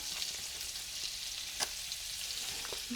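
Butter sizzles in a little bacon grease on a Monument Mesa II 415BZ grill, giving a continuous, even frying hiss with a couple of small crackles and taps.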